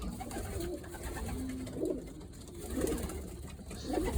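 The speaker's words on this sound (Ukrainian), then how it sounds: "голубенятка." Soft cooing of young pigeons comes in a few low, short phrases over constant background noise and hum, fairly faint and somewhat distant.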